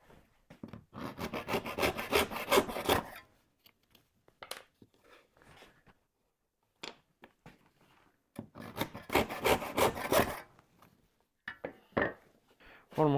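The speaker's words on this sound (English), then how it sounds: "we're going to go cut the dowels to length and put them in" Hand saw cutting wooden dowels to two-inch lengths for restoring an old library table. Two bursts of close, rasping back-and-forth strokes with a quiet pause and a few faint knocks between them.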